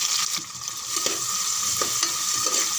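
Onions and green chillies sauté with fennel seeds in a pan for tomato rice, making a continuous close sizzle broken by brisk stirring scrapes, with no talking.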